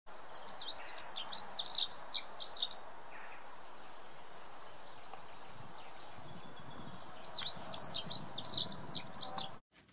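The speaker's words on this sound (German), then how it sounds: "Deswegen hier noch einmal den Gesang der Heckenbraunelle." Dunnock song: two bursts of high, rapid, jingling warble, one at the start and one near the end, with a quiet outdoor background between them.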